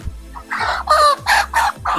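A large broiler chicken gives several loud, close squawking clucks in quick succession, each call harsh and drawn out, with no talking.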